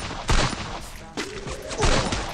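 Scoped rifle shots in the Free Fire mobile battle royale game, two or three sharp cracks with short ringing tails, loud and close, separated by brief pauses of game ambience.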